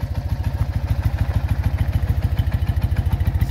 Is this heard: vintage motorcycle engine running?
yes